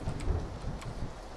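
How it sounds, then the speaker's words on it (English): Low rumbling thunder mixed with steady rain hiss in the battle royale game PlayerUnknown's Battlegrounds, a continuous soft storm ambience with a few brief crackles, no voices. "All I hear is the thunder."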